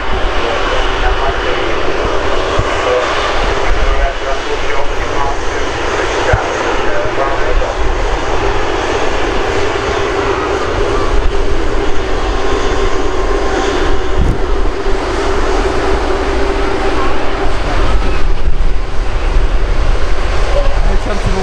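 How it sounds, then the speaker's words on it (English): Airbus A319 jet engines at Manchester Airport, a steady broadband roar holding loud and constant throughout as the airliner taxis toward departure, with faint talk nearby. "Airbus A319 there, finally making his way down to departure."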